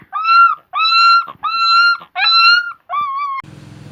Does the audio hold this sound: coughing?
no